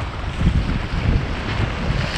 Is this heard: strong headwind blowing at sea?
yes